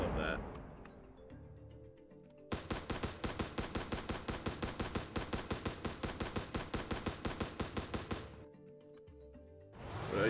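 Gunfire from a slow-firing, hard-hitting weapon in the battleship game From the Depths: a rapid, evenly spaced burst of about thirty loud sharp shots lasting several seconds, with a quieter background before and after.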